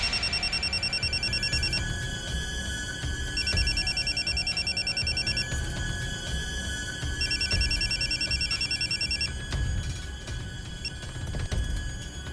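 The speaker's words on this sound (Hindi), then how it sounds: "फिर मैंने वसीम के फोन पे कॉल किया था।" A telephone rings in three evenly spaced bursts of high electronic trills, steady and clear over a low background hum.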